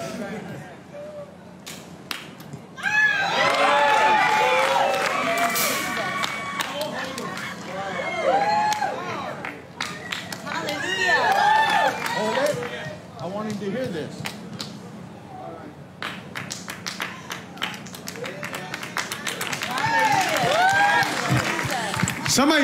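A church congregation bursts into loud, sustained clapping and cheering that swells and ebbs over about twenty seconds, with excited voices and shouts mixed in throughout.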